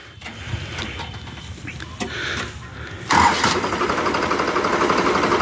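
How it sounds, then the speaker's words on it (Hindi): A New Holland 3630 Special Edition tractor engine cranks and catches at about three seconds, then settles into a steady, loud idle rumble with mechanical clatter. "तो हुण ना तुहानू आवाज़ सुनाने ट्रैक्टर की"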